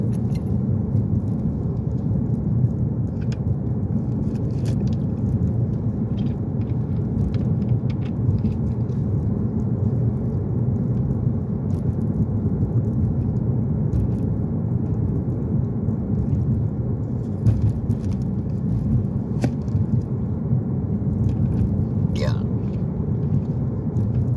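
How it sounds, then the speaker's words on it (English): Steady low rumble of a car driving on an icy road, continuous and close throughout, with occasional faint clicks and rattles over the road noise. "All this shit that I'm driving on is just like a fucking ice road."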